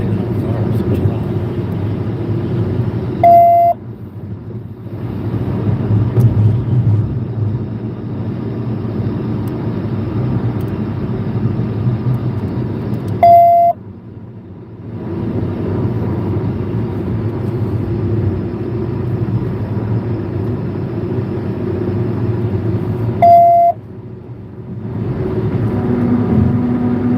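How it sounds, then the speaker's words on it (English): A radio scanner's short beeper tone sounds three times at even intervals about ten seconds apart, cutting briefly through a steady vehicle drone heard from inside a moving car, with voices talking over it. "Cancel the beeper"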